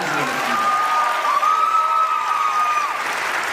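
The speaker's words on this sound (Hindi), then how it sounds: "एक जोरदार ताली होना चाहिए छत्तीसगढ़ की।" An indoor audience at a business training event breaks into loud, sustained applause, dense clapping from many hands filling the room with no pause.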